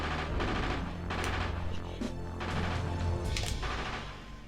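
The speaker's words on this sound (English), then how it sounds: "Those guns want you dead." Guns fire in the video game Castlevania: Legacy of Darkness, a dense run of loud bursts and crashing impacts in repeated waves, close and harsh with no talk.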